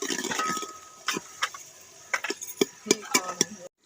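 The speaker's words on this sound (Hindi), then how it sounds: "अब हम इस गर्म घी में प्याज डालेंगे" Onions dropped into hot ghee in a cooking pot (handi), heard as a burst of hissing frying followed by several sharp metallic clinks and scrapes of a spoon against the pot, close and fairly quiet.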